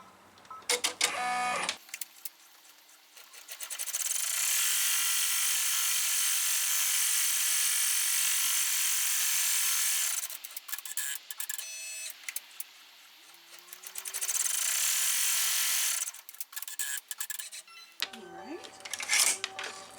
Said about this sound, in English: So we're going to pop into the machine and run our first step, which is going to be our placement line.